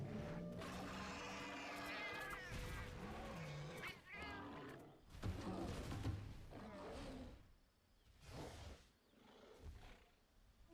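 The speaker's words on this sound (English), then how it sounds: "The cat voices in this game are weird." Cat characters in the video game Monster Hunter 4 let out a string of odd, warbling meows and yowls, several calls with short gaps, faint and without talk.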